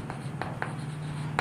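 Pen writing a solution on paper, close and clear, with a few short scratchy strokes spaced irregularly over a steady low background hum.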